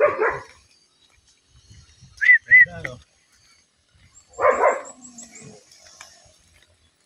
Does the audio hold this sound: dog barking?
yes